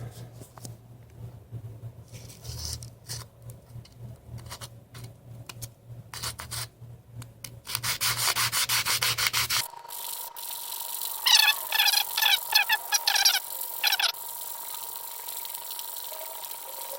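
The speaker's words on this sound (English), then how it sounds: "Sandpaper I got is 80 grit." 80-grit sandpaper rubbing against the bridge of a Seagull Maritime folk acoustic guitar, a steady scraping hiss in repeated strokes, close and alone.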